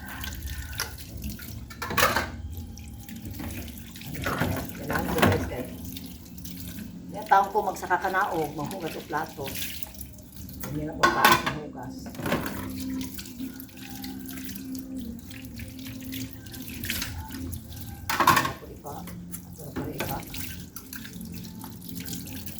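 Water running from a newly installed sink faucet in a house under construction, a steady splashing stream with drips, fairly close, under intermittent talk.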